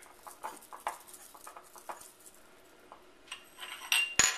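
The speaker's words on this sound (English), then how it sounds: "I'm just going to give it a little bit of a whisk just to kind of mix it a little bit together" Flour being whisked with baking soda and baking powder for an Italian cream cake makes a quick, light rhythmic ticking of whisk against bowl, close and soft. A few sharper metallic clinks come near the end.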